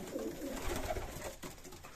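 Pigeons in a loft coo in soft, low, rolling bursts, several birds overlapping at close range against a faint hiss of background noise.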